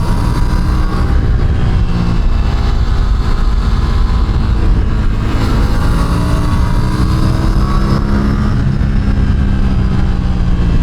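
An Aprilia RS457 parallel-twin motorcycle on 100-octane fuel, ridden through winding curves on a hill road, gives a loud continuous engine drone that rises and falls with the throttle against strong wind rush.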